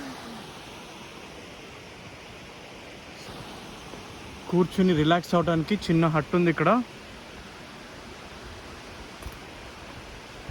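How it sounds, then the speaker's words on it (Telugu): Kamabuchi waterfall in the mountains of Japan gives a steady, even rushing roar throughout, with a person speaking briefly over the water in the middle. "సో ఇదండి కామాబుచి వాటర్ ఫాల్."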